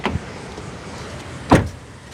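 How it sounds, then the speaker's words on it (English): The front door of a 2025 Kia Carnival LXS minivan shuts with one loud, close, solid thud, after a faint click at the start, then a quiet pause. "let's listen to the sound of the closing door"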